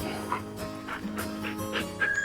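A sled dog whimpers and yips close by in short, soft bursts, with some panting between the calls.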